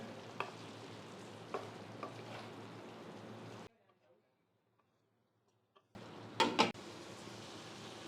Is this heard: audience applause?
no